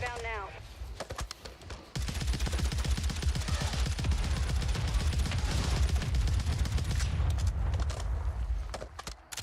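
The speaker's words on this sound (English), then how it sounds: "Requesting ordnance. Position marked. Mortar strike inbound now." A mortar strike in an online shooter video game lands as a dense barrage of explosions and rapid blasts, loud and sustained for several seconds after a quieter opening.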